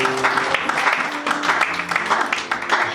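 A church congregation claps and cheers during a worship service, dense steady applause with voices mixed in throughout, moderately loud and continuous.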